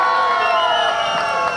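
A crowd at an outdoor Greenathon-2024 clean-and-green event at Kamatibaug, Vadodara, cheers and whoops in a dense, sustained roar with possible clapping mixed in, holding steady throughout.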